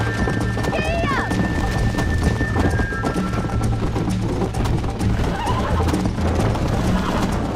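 In Red Dead Redemption, a horse gallops with dense, rapid hoofbeats under a rider's shouts, accompanied by a whinny near the start and continuous loud rumbling motion throughout.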